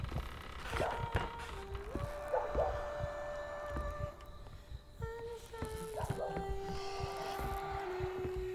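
Inside the Maid of Sker horror game, a siren sings a slow, eerie, wavering melody with long held notes, moderately loud over a dark ambient background with soft thumps.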